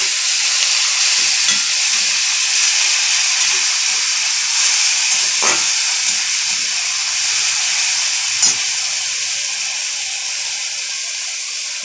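Chopped onions and garlic fry in a hot pan with a steady, loud sizzle throughout, broken by a couple of brief stirring scrapes.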